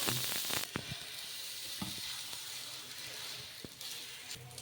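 A wheat rava and urad dal dosa cooks on a hot pan with a steady, close sizzle, broken by a few short scraping taps, and no one speaks.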